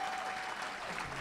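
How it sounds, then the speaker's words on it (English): Brief burst of audience applause at a conservative conference, a dense steady clapping from a crowd lasting just over a second. "One more round of applause for Larry Elder."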